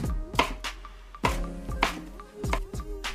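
Knife slicing carrots and peppers on a board for Korean-style fried brown rice, a series of sharp, separate chops in an uneven rhythm, close and fairly quiet with no talk.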